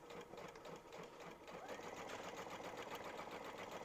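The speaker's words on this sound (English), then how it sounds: "We're going to sew with about 1/4 inch seam allowance." A sewing machine stitches fabric strips together for a Christmas ornament potholder, a steady fast whirring hum running continuously and growing slightly louder after a brief softer start.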